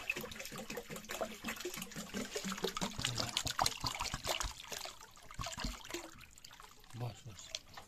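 Liquid poured and stirred into fermented jaand, a rural Nepali millet brew, giving faint close trickling and sloshing water sounds mixed with background voices.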